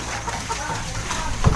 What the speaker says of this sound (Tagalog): Nandito pa yung ibang mga manok natin na